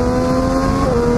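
A 2014 Triumph Daytona 675 R sport motorcycle accelerates hard, its engine giving a loud, close, steady rising whine for a brief moment.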